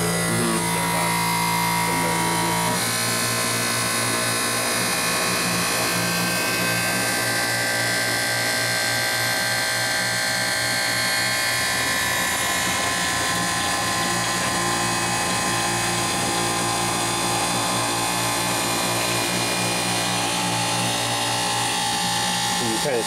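An Essilor Kappa edger cutting a high-index eyeglass lens, a steady dense mechanical grinding whir with tonal hum that runs throughout, fairly loud, while people talk over it.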